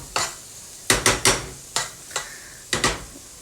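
Shishito peppers stir-frying in a hot pan for a garlic ramen dish, a series of about eight short scraping, clattering stirs over a faint sizzle, close and fairly quiet, no talking.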